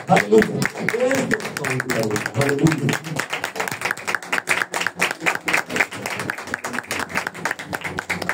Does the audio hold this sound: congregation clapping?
yes